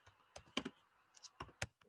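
A few scattered keystrokes on a computer keyboard, quiet and close, tapping out a short message in an irregular rhythm with small pauses between clicks.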